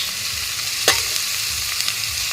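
A boiled tomato and onion paste goes into a hot pan with torn green chillies while cooking butter paneer, giving a steady close sizzle and frying hiss, with a sharp clink of a utensil partway through.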